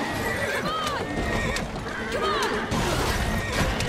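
A horse-drawn carriage in the Assassin's Creed Syndicate video game, with horses neighing repeatedly over steady clip-clopping hooves and rattling wheels, close and busy with scattered crashing noises.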